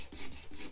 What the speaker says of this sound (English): I decided to scrape the top layer off with a Stanley knife blade